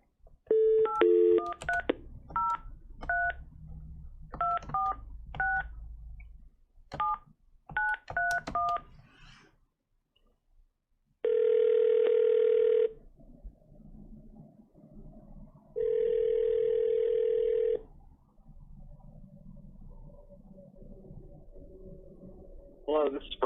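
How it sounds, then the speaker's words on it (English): Telephone keypad tones beep in quick bursts as a county board committee dials a public commenter, followed by long ringback tones, with a few faint voices in between. "We're ringing Brian in."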